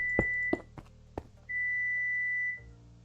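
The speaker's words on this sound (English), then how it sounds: "if the mic is catching the beeping, that's just because the oven is ready" An oven sounding its preheat-ready alert, several short high electronic beeps followed by one long sustained tone, fairly clear in a quiet room.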